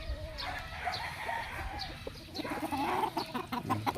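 A Roundhead gamecock rooster clucks in short, close bursts over faint background noise, without crowing.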